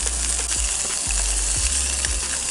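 Beef short rib searing in sesame oil in a pan at an outdoor backpacking camp stove produces a loud, continuous close sizzle over a steady low burner roar, with a few soft knocks and no speech.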